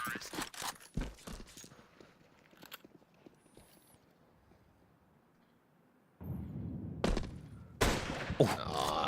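Gunfire during a professional Counter-Strike match has a few sharp shots and short bursts, then louder rapid fire near the end, with casters talking throughout.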